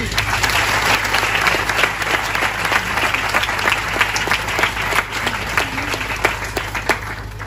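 A church congregation applauds in a sustained, dense burst of clapping, loud and close, with a faint low hum beneath and no pause across the whole stretch.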